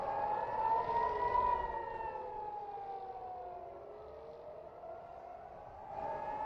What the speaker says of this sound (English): On the ground, the sound of air raid sirens